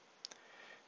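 A keyboard Enter key on a computer being pressed, heard as one or two quick faint clicks close by in a quiet room.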